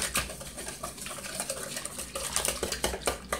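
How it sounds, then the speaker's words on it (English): Milk mixture with 1% milk for bread pudding is whisked in a bowl, giving quick, close, rhythmic clinks and scrapes of the whisk for a few seconds with no talk. "And so I'm going to whisk that together."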